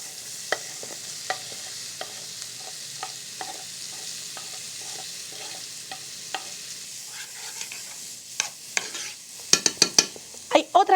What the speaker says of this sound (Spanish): Y aquí vamos entonces a sofreír la cebolla.